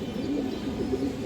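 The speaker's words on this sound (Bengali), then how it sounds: "সিলভার কবুতর আছে মাশাআল্লাহ" Silver pigeons, a male and female pair, coo in low, steady, rolling murmurs that continue throughout, fairly close and with no voices over them.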